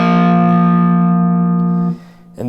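A sustained electric guitar chord from the opening lick of a song rings out with rich harmonics for about two seconds, then cuts off, followed by a brief pick or string noise.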